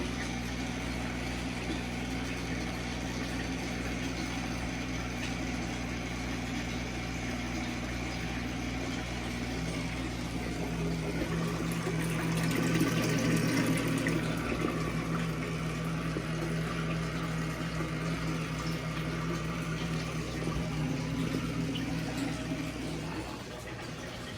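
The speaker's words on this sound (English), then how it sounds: "The water coming in is cold." Cold water flowing into an aquarium during cleaning and maintenance, a steady close rushing and gurgling under a constant mechanical hum that swells briefly midway, with no talking.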